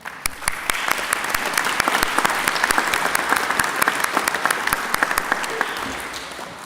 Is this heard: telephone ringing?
no